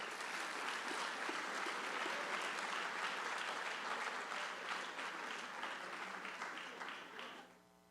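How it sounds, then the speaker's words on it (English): Sustained applause from the audience at a senior awards ceremony honoring a student, dense and steady for several seconds before tapering off near the end. "let's give him one more round of applause"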